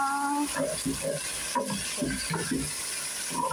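Rice is stirred into browned fried vermicelli in a pan, giving repeated scraping strokes in a loose rhythm over a low sizzle, with a voice briefly heard near the start.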